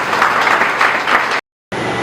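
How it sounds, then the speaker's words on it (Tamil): Audience clapping at a celebration event held by a human rights and welfare organisation: dense, steady applause from a crowd, cutting off abruptly into brief silence before resuming. "நல்ல ஒரு கைத்தட்டி கொடுங்க"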